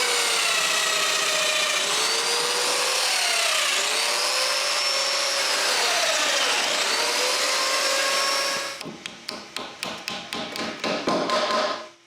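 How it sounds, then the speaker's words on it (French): Domino joiner cutting mortises in solid wood whines loudly and steadily with a wavering pitch, then gives way to a quick run of sharp, rhythmic tapping plunges near the end. "Après avoir marqué là où percer les mortaises de domino, je les perce."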